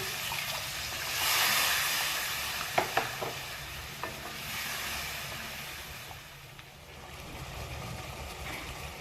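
Spice paste sizzles and fries in a pan as a little water is added, cooking for malai shahi paneer. The sound is a steady hiss that swells and eases, with a few soft clinks of a spoon stirring, close and without talking.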